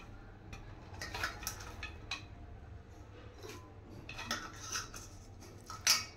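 Chopped banana flower dropped into a pressure cooker in a home kitchen, giving a few faint metallic clinks and soft rustling knocks spread over several seconds, with no talking.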